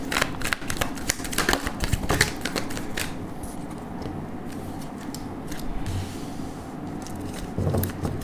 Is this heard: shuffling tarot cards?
yes